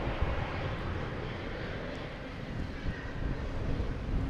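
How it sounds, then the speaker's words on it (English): A Cessna Citation jet approaching Boston Logan Airport, a broad steady roar with a low rumble, moderately loud and continuous with slight swells, no talk. "There's a Cessna citation coming in from Pittsfield."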